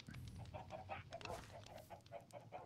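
Chicken clucking in the Minecraft video game, a quick series of short rhythmic clucks repeating steadily at moderate volume with faint background noise and no speech.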